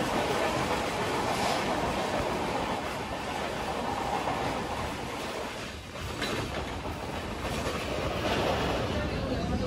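The Tamralipta Express (12858), running from Digha to Howrah, passes Dasnagar station as a loud, unbroken rumble and rush of wheels and carriage noise that fills the whole stretch.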